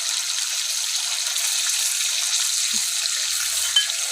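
Marinated chicken pieces frying in a pan of oil, a loud continuous hiss of sizzling fat with a faint low knock near the end.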